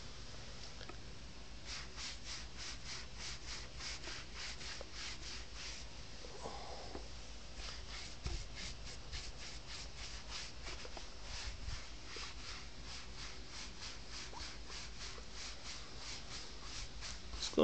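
Steady back-and-forth brushing strokes of a cloth rubbing polish onto a leather shoe to shine it, a fast regular rhythm close up and fairly quiet, running alone without talk.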